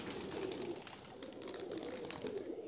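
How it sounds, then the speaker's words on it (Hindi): Kamgar blue pigeons in a home loft, giving a steady low cooing with soft rustling, faint and continuous with no voices. "ये कमगर नीले कबूतर जो कहलाते हैं"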